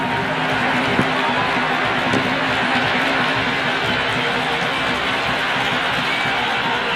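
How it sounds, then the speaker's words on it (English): Large crowd at an IPL cricket match between MI and CSK, a dense, continuous roar of raucous noise filling the stadium, loud and steady throughout. "The crowd are really getting quite raucous."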